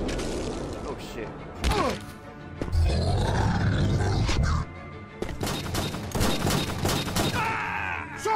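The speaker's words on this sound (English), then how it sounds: "they're shooting too many times" Repeated gunfire in an animated series comes as rapid bursts mixed with roaring and dramatic sound effects, loud and dense, with voices talking over it.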